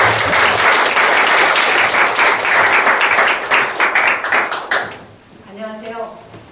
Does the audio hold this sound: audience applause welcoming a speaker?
yes